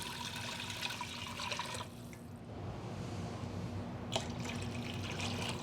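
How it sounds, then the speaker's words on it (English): Water pours steadily into a cooking pot for a pozole, a continuous rushing flow that shifts in tone midway as the pot fills, with no voices. "we're just going to go ahead and add the 6 cups of water."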